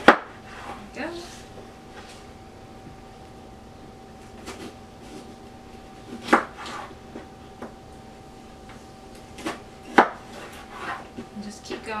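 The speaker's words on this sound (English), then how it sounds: "just keep going until all of your cucumbers are sliced" A knife slices cucumbers on a cutting board for refrigerator pickles, giving sharp, irregular cuts and taps over a quiet room while a person talks.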